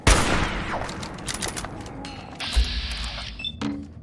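Gunfire in the Fallout 4 video game, modded for a Walking Dead playthrough, comes as a sharp burst of rapid shots followed by clanking and mechanical weapon sounds, loud and close with no talking.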